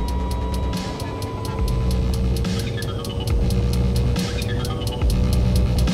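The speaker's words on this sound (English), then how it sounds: "Releasing starter for engine two." Engine two of a helicopter in the video game Take On Helicopters spools up after its starter releases, a steady turbine whine and rumble with a repeating rhythmic ticking across the upper range, loud and continuous.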